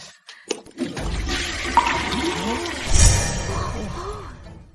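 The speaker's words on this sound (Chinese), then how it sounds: "冲完水之后，它还会自动蓄满，所以叫自动冲水马桶" An automatic-flush toilet flushes: water rushes and gurgles for several seconds after a few soft knocks, rising to a brief surge before settling, with no voices.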